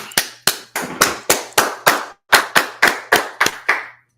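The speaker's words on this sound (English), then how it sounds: "Let's clap it up." About fourteen sharp, close hand claps ring out in a steady, slightly uneven rhythm with a short pause midway, each clap loud and crisp against near silence.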